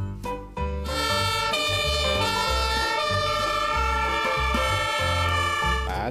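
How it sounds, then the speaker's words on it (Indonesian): Toy fire truck (damkar ladder truck) siren blaring loudly and continuously with a cycling electronic wail over a steady music-like backing, no talking. "Ini ada damkar. Pemadam kebakaran,"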